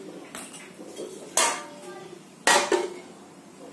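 A metal cooking pot is set down on a gas stove, with two sharp, ringing clanks of metal on metal and some lighter clatter between them, close by.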